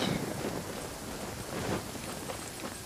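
Rain in the Genshin Impact video game, a dense steady wash of falling drops with a low rumble beneath, continuous and fairly loud throughout.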